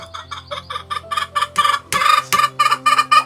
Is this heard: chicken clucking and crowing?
yes